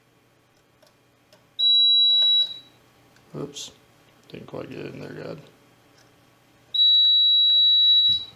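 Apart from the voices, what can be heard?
control panel alarm beeping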